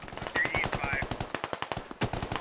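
Rapid bursts of automatic gunfire in a tactical shooter video game, sharp repeated cracks close by, one burst after another for a couple of seconds with a brief pause before a final volley.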